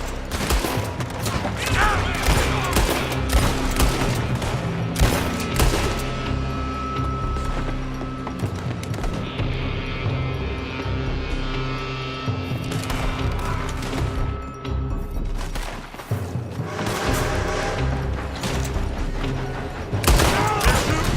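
Rapid gunfire from a building in Red Dead Redemption 2 crackles in dense volleys of sharp shots and booms, with brief lulls between bursts, loud and close, and shouted voices mixed in.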